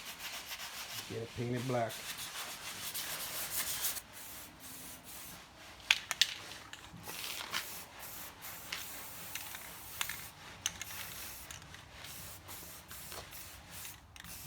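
Sanding on a part for a 1979 Malibu race car comes first as a steady, close scratchy rubbing that gives way to fainter scuffs and knocks while a voice speaks briefly.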